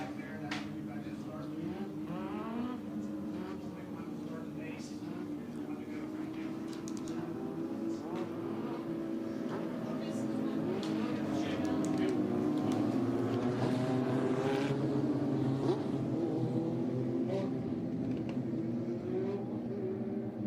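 Late model dirt race cars lap an oval at Atomic Speedway in a Lucas Oil Late Model Dirt Series event, their engines a steady, layered roar that swells slightly midway, with a commentator talking over the pack throughout.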